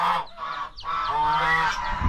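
Birds honk loudly and repeatedly up close in a farm brooding pen holding ducks and turkeys, a nasal, overlapping chorus with no talking.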